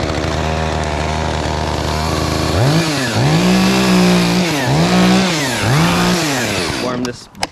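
A chainsaw idles, then revs up repeatedly in several rising and falling surges, loud and close, before cutting off near the end; used during removal of a large rotten fir tree.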